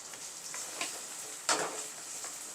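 Sliced onions frying in oil for a dum biryani in a home kitchen: a steady, fairly quiet sizzle with a few soft stirring scrapes and clinks, including one sharper knock midway.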